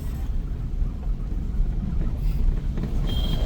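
A car creeps along a narrow lane in second gear, giving a steady low rumble from inside the cabin, mixed with buffeting wind noise and no clear talking.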